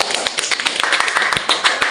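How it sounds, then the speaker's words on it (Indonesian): A classroom audience at a junior high school claps for a group of students, a brisk, close burst of many hands clapping that stays dense and steady throughout. "Beri tepuk tangan untuk mereka."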